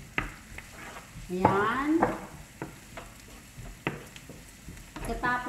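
Garlic frying in a pan alongside beaten egg and ampalaya, with a steady crackling sizzle and scraping stir strokes under someone speaking Filipino throughout.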